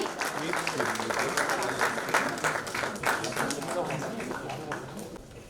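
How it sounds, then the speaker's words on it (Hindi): Audience applause at a certificate award ceremony for nursing and paramedical institutes, a steady dense patter of many hands running throughout, with a voice talking over it. "जोरदार तालियों के साथ आप सभी को बहुत बहुत बधाई"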